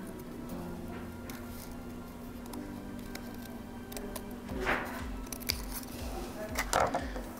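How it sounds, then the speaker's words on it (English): Scissors snip through paper while cutting out antenna shapes for a ladybug craft. A few crisp cuts stand out near the end over a steady low background hum, and no one speaks. "you're just gonna cut out whatever shape antennas that you want"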